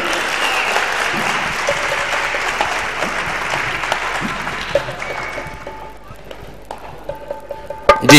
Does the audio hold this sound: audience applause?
yes